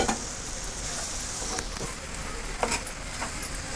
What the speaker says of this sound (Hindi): अब मैं इसमें दूध डालूंगी, मैं इसमें से 1/2 ही दूध इसमें डालूंगी